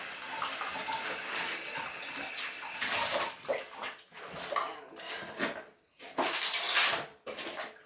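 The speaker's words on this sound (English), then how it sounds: "Wash my hands off." Tap water runs into a sink as hands are rinsed after fabric dyeing, a close splashing flow that rises and falls in bursts with brief pauses.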